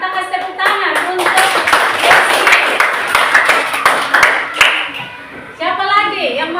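A class of students claps for a classmate's answer in a lesson on the spice trade, a dense, steady patter of many hands lasting several seconds, with voices and chatter mixed through it and a teacher's voice rising near the end.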